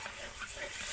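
A spoon stirring grape sandesh mixture into hot sugar syrup, a soft continuous scraping and faint sizzle, steady and quiet, with no talk.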